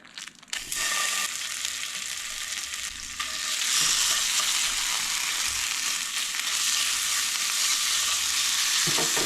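Chorizo sizzles and crackles steadily in a hot pan, a dense, continuous frying hiss that grows slightly louder partway through, with occasional scraping of the meat being stirred and no voices.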